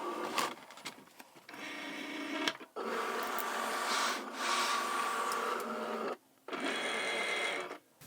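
A Cricut Maker cutting machine, set up with a rotary blade for cutting cork, whirs and grinds as it loads the mat, a close mechanical motor hum in several runs broken by short pauses.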